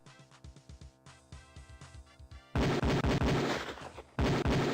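Beretta pistol shots at a police firing range in the video game Police Quest 4, a fast series of sharp, loud reports, lighter at first, then heavier and more densely packed volleys near the end.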